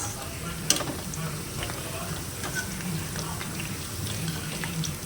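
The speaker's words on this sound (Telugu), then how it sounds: "నూనె ఇట్లా ఎక్కువ పోసుకొని దొండకాయ ముక్కలు వేసి ఇలా వేయాలి ఫ్రెండ్స్ ఇలా వేగాక తీసుకోవాలి" Ivy gourd (tindora) pieces frying in plenty of oil, giving a steady crackling sizzle close by with faint clinks, and no clear talk.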